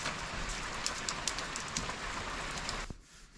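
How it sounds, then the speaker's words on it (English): Steady rain falls outside an abandoned house, a dense close hiss of drops on surfaces that continues evenly, then cuts off abruptly near the end. "it just started raining"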